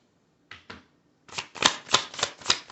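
Tarot cards are drawn and laid down during a reading: two quick soft slaps, a short pause, then a run of six or so crisp card snaps in steady rhythm, close and clear.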